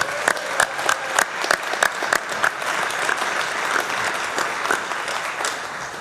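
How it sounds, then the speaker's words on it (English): Audience applause at the TechNL Technology Sector Awards Ceremony during Innovation Week, a steady dense round of clapping from a large crowd lasting throughout, with a few sharper individual claps standing out. "Can we give them a round of applause?"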